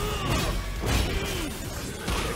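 Wall-break smash in a Tekken 8 fighting game tournament match, Hwoarang versus Dragunov: a burst of crashing impact rises out of dense, continuous game effects and background music, with further hits following.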